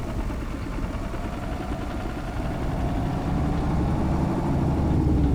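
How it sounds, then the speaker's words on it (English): A Fendt tractor engine labors hard on a farm, a steady deep droning rumble with constant vibration that grows slightly louder and heavier toward the end, close and continuous with no voices. "it might be the last time that this tractor is doing this hard of a work on the farm"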